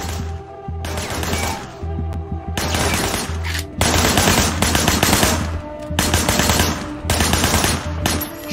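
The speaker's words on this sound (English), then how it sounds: "Shooting at the guys over there." Rapid automatic gunfire from the open-world action game Sleeping Dogs, loud sustained bursts of shots crackling in repeated volleys with brief gaps, over a steady low game soundtrack hum.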